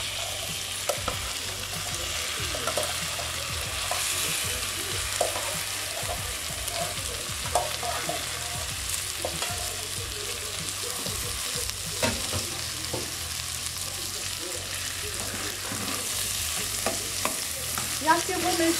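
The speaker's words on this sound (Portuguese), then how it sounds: "Aqui eu vou mexer tudo bem mexidinho." A spoon stirs cooked beans (feijão tropeiro) and rice together in a pot for baião de dois, with steady scraping and stirring knocks over a soft, continuous frying sizzle, close and unaccompanied by talk.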